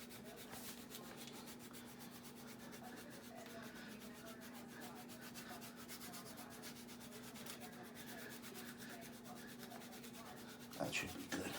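Pecorino cheese is grated over a New York style pizza, a quiet, steady rasping scrape repeating in quick strokes close to the mic over a faint constant hum, ending in a slightly louder clatter, with no speech.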